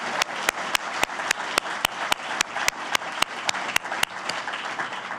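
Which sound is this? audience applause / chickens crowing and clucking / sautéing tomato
audience applause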